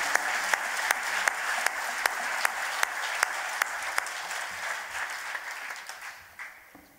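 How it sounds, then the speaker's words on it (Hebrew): Audience applause at a live concert of North African and Maghreb music, with steady, moderately loud clapping from a crowd. A few sharp individual claps stand out before the applause thins and fades toward the end. "תעשו מחיאות כפיים בבקשה"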